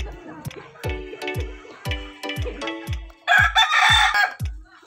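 A native rooster crows loudly and close by, a long strained call near the end, amid a string of sharp knocking thuds and other clucking fowl sounds.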